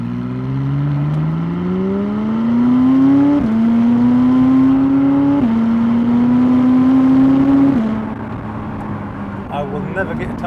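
A 2016 McLaren 570S sports car engine holding a steady drone that rises in pitch, drops with each gear change and climbs again, heard from close by before easing off near the end.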